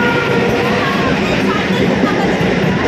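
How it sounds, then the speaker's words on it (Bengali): A train rolls into a busy station with a loud, steady rumble of wheels and carriages, while people's voices mix into the crowded platform noise throughout. "আমাদের ট্রেন চলে এসছে।"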